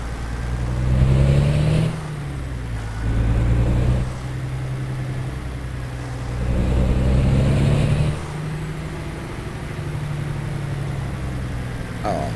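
A heavy haul truck in the driving game American Truck Simulator rumbles along with a steady engine drone that swells louder in several surges, then settles back to an even hum, with no talking.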